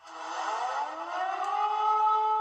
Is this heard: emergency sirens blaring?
yes